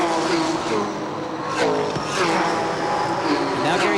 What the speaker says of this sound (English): And the first 10 cars, as John Benson Jr. slides high coming out of corner number 2, are really percolating